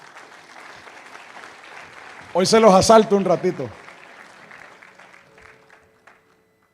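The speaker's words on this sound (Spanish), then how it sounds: "Denle un aplauso a mi hijo," A church congregation applauds in a steady wash during a sermon, while someone speaks over it at the microphone before the clapping fades.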